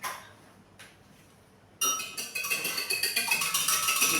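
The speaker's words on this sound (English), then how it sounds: "Whisk." A whisk beats egg in a bowl, starting after a short quiet moment and building into fast, rhythmic metallic clinking, close and loud, with no voices.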